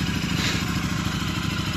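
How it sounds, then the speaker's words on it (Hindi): Royal Enfield Super Meteor 650 motorcycle on a cold start, a loud, steady, close engine rumble with a pulsing low thump and no talk. "जी भाई की बाइक कोल्ड स्टार्ट"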